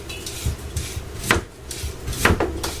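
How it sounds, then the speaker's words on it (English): Knife chopping beets on a board, with a few irregular, fairly close taps and scrapes over a low background rumble. "so I'm busy chopping up the beets,"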